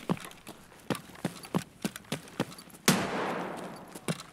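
Gunfire from upstairs in Escape From Tarkov, a series of sharp, evenly spaced shots followed by a louder burst with a lingering noisy tail, then another single shot.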